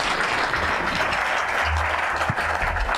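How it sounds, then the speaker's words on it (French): An audience applauds three speakers at the close of a French robotics conference day, a dense, continuous patter of clapping with a low hum or murmur underneath. "Alors on va applaudir nos 3 intervenants."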